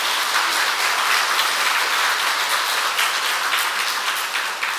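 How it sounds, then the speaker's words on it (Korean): A Korean church congregation at Daebong Church gives loud, warm, sustained applause, a dense even wash of clapping that continues throughout with no talk. "여러분 뜨겁게 한번 박수해 주세요."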